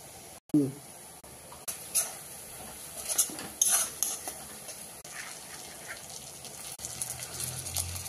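Spices and green chillies being fried in a pan while making Bengali chicken kosha, with a metal spoon clattering and scraping against the pan in irregular bursts over a low, steady frying hiss.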